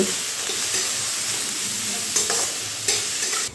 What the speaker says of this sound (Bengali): এখন এই তেলের সঙ্গে পেঁয়াজগুলো একটু লাল লাল করে ভেজে নিতে হবে